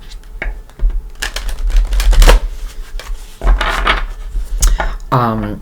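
Tarot cards being shuffled with crisp riffling and flicking bursts, loud and close, ending in a brief rising whirring note.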